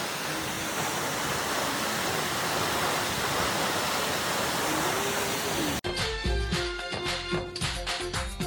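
Mohini waterfall at Kulekhani roaring as a dense, steady rush of falling water for most of the clip, then cutting abruptly to a quieter outdoor scene with soft thuds and rustling.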